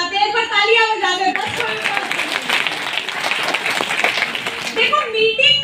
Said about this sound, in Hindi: क्या बात है, एक बार तालियां हो जाए।